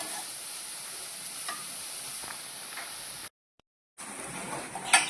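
Vegetables with salt cooking in a pan for cutlets, a steady bright sizzle with occasional stirring scrapes, cutting out briefly into silence before the frying resumes.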